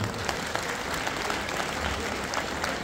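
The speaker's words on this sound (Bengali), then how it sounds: "এত সুন্দর অনুষ্ঠান আরেকবার খুব করে হাততালি হয়ে যায়" An audience at a stage performance claps in a dense, sustained burst of applause, close and even throughout, with a faint murmur of the crowd beneath.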